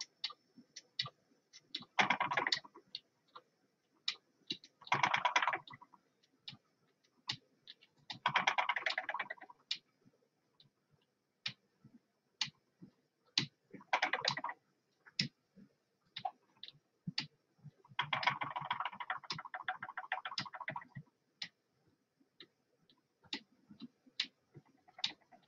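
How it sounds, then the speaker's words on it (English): A spinning wheel's bobbin clicks loudly during high-tension spinning with the lashed method on a SpinOlution wheel, giving close, crisp, irregular ticks with several denser bursts of rapid clicking, and no talking. "My bobbin is loud."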